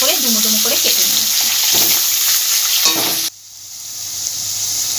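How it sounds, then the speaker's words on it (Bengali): Diced potatoes, three medium ones cut small, fry in oil with a steady close sizzle and crackle that carries on under a brief voice, then drops abruptly quieter for the last couple of seconds. "ওই তেলের মধ্যে আলুগুলো ভেজে রাখবো।"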